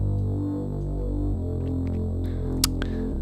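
Distorted, clipping synth subbass pushed with extra drive: a steady, buzzing low hum rich in gritty upper harmonics, sustained throughout with a brief brighter click near the end.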